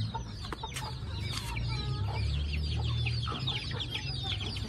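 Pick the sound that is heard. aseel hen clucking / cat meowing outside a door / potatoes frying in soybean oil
aseel hen clucking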